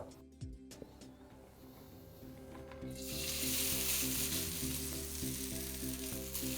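Noodles hit hot oil in a seasoned Chinese wok for restaurant-style gravy chicken chow mein, bursting into a loud, steady sizzle after a few soft clinks, with low tonal hum underneath.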